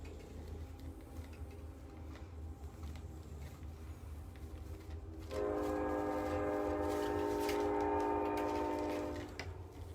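A train passes close by, its loud horn sounding a sustained, multi-tone blast for several seconds over a steady low rumble of rail noise.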